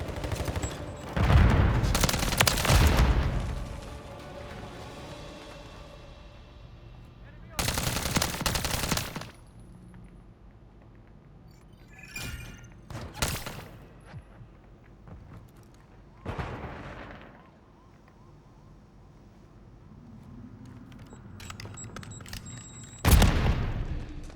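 Shotgun and other gunfire in a Call of Duty game from 2023, loud bursts of shots separated by quieter stretches with faint talk underneath.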